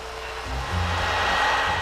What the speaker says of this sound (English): the vacuum cleaner is not the only noise to reach Wales from across the Atlantic